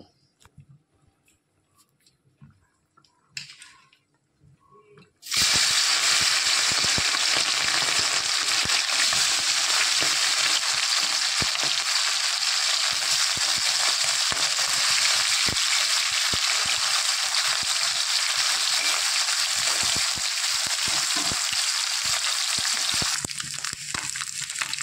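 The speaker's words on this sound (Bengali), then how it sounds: "তেল ভালো মতো গরম হয়ে গেছে, এবার এক এক করে মাছগুলো ছেড়ে দেব।" Tengra fish slipped one by one into hot oil, a quiet few seconds of small handling sounds and then a sudden loud, continuous close sizzle of frying that lasts to the end.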